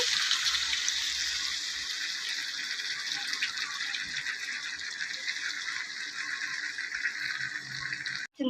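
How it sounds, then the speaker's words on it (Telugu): Tamarind juice pours into a simmering Andhra-style fish curry in a steady, close liquid stream lasting several seconds before stopping abruptly. "దీంట్లోకి చింతపండు రసం యాడ్ చేసుకోవాలండి"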